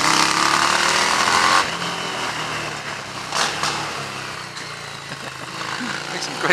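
A Harley-Davidson Street 750 motorcycle engine runs at moderate volume with a loud rumble at first, then settles into a steadier throb with a few brief bursts.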